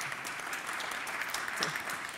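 An audience claps steadily for Harri at a Finnish panel talk on the circular economy, giving brief, dense applause at a moderate level with no voice over it.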